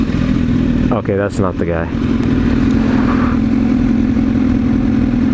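Motorcycles idle and ride past on the road with a steady mid-range engine drone, while someone speaks briefly near the start over the engine noise.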